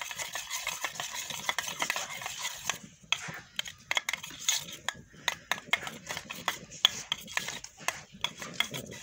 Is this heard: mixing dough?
yes